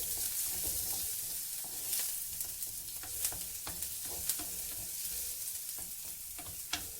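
Onion and green chillies sautéing in a clay pot, a steady close sizzle with scattered sharp crackles and the occasional scrape of stirring running the whole time, no voices.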